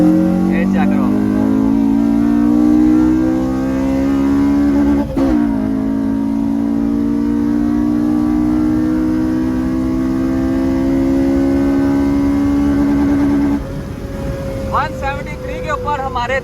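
A car pulls hard in second gear, its engine note climbing steadily as VTEC engages, loud and close. After a shift and a short drop, it keeps building, with someone speaking over it.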